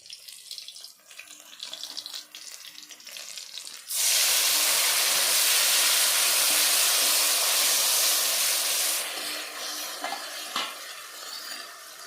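Spice paste mixed with turmeric being sautéed in a pan, a loud, steady sizzle starting abruptly and hissing evenly close by for several seconds, then easing to softer frying with a few scrapes.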